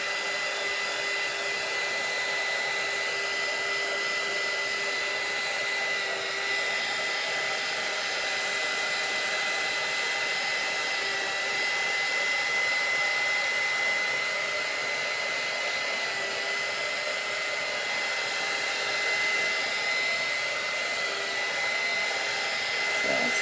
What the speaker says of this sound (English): let me just grab my heat gun and give it a little bit of a dry out